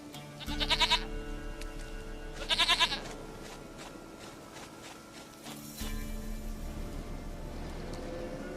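Two short quavering goat bleats from The Witcher 3, each about half a second and spaced roughly two seconds apart, clear over a low ambient hum that swells later.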